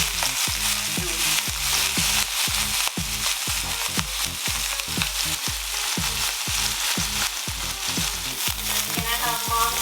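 Beef for a steak sandwich sears in a hot pan with a loud, close sizzle, punctuated by regular rhythmic scraping strokes as the meat is stirred and turned.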